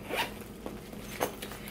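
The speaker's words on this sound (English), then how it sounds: "I like that there's a zipper in the back." Zipper on a Tender Love and Carry bag drawn open in a few short scratchy pulls, close up and fairly quiet, with no talk.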